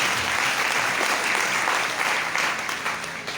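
A church congregation bursting into loud, sustained applause during a Sunday service, dense clapping from many hands filling the room throughout without pause.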